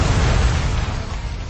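A metal fire escape collapsing during a New York factory fire, a loud, dense rumbling crash with heavy low booming that fills the whole moment and slowly eases.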